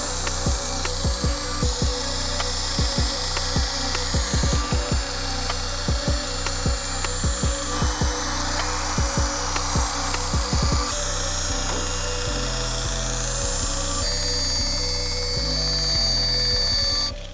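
A polishing machine whirs steadily against a plastic car headlight on a Ford Focus ST, with a rhythmic thumping pulse through the first half, then a smoother continuous grind.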